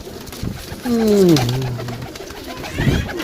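A pigeon coos nearby in a low, gliding call, with faint rustling and bird sounds around it.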